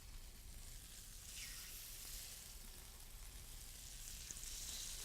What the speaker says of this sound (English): I'm going to put that mustard side down right into that hot pan there